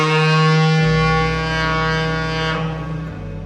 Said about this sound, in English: Having heard the foghorn, I'm going to do it once more.